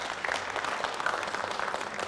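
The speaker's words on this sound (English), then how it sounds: "Round of applause for Ross." An audience at a school vo-tech board meeting gives a short burst of steady, moderately loud hand clapping, many hands blending into a dense patter that lasts a couple of seconds.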